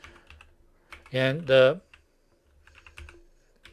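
Keystrokes on a computer keyboard during a lecture while logging into a remote server, a sparse series of close clicks with someone speaking briefly between them.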